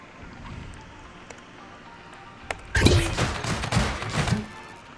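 A modded auto turret in Scrap Mechanic opens fire on bots, a rapid burst of loud mechanical shots and impacts following a few faint isolated clicks over low ambient hum.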